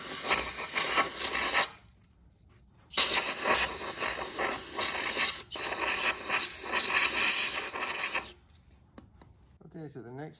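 Compressed air blasts out a spark plug hole in an engine cylinder head after rethreading, in three loud, sustained hissing bursts separated by short pauses.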